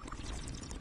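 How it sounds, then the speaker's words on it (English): Liquid pouring sound of headlight fluid in the Job Simulator VR game, a continuous glugging splash lasting under a second. "Supposed to pour it into the headlight."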